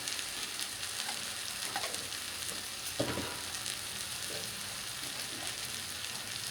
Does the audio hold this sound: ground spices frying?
yes